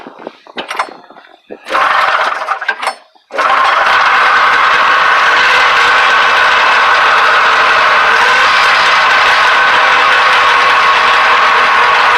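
A modded vintage snowmobile with a non-original motor starts after a few brief bursts, then runs loud and steady at a close, buzzy idle with a rattling edge. Voices are heard before it starts.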